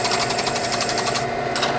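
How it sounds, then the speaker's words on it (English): A power drill bores belt loop holes through a Kydex holster flange, a loud continuous close-up whine with a fast pulsing grind, steady throughout. "I'm letting the drill bit do its job and just working its way through that"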